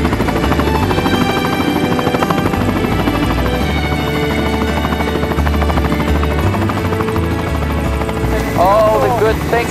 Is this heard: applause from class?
no